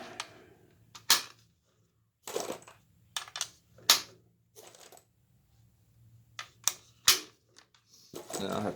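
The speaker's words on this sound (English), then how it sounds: "So I got 40 loose rounds in the big box of 223. And let's start putting them in." Loose .223 cartridges are pressed one by one into a new Magpul 40-round AR15 magazine. Each one makes a short, crisp metallic click or snap, irregularly spaced, with quiet handling sounds between them.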